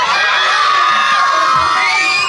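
A crowd of children at the Toverland theme park shouts loudly and continuously, their high voices blending into one sustained excited cheer with whoops.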